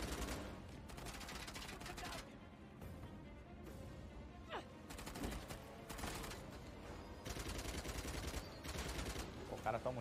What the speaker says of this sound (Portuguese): O cara toma um tiro de fuzil em cima da moto, não acontece nada